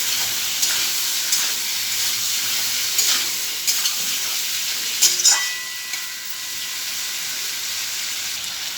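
Chicken pieces added to spiced oil fry with a loud, steady sizzle and hiss, broken by occasional scraping stirs in the pan.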